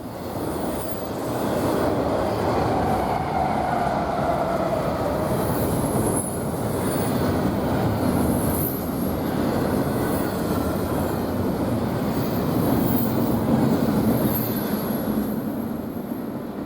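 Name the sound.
hotshot Z freight train passing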